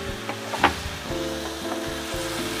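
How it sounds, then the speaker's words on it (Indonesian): Ingredients stir-fry in a pan with a steady sizzle, broken by scraping stirs and a sharp utensil knock early on. "Saya tumis-tumis lagi sampai tercampur rata"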